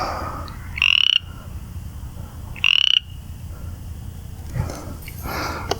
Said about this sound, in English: somewhere in there's definitely some frogs.